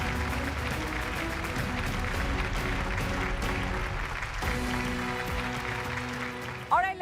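Dense, continuous applause from an awards ceremony audience at a corporate best-workplaces event, steady and broad with a brief dip midway.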